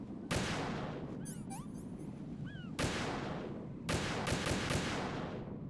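Three loud, sharp gunshots in Metal Gear Solid 2, spaced a few seconds apart, each with a booming tail, while bright electronic chirps and beeps sound in between.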